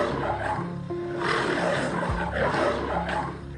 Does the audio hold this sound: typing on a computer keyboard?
no